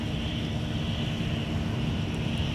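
A heavy jet airliner bound for Ireland takes off at Minneapolis airport, heard as a steady, loud, broad engine roar with a low rumble, unbroken for the whole stretch.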